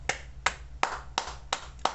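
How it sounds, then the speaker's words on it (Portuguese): Six sharp, evenly spaced hand claps, one person clapping slowly and fairly close over a low steady background hum. "aplauso para o André Valadão"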